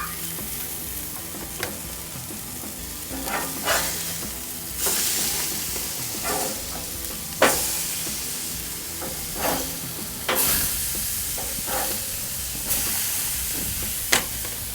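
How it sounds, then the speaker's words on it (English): Burgers sizzle and spit steadily on a Monument Grills Mesa 415bz gas grill, grease hissing on the flavor bars, with repeated scraping and flipping taps of a spatula up close. "You can see that grease hitting those flavor bars. Go ahead and flip these burgers."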